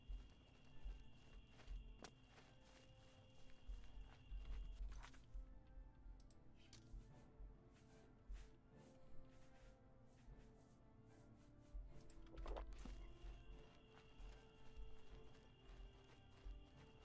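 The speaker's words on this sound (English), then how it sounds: "It wouldn't let me ride my horse." Horse hooves clip-clopping in Elder Scrolls Oblivion, a steady walking rhythm of hoofbeats with a whinny, close and continuous alongside game ambience.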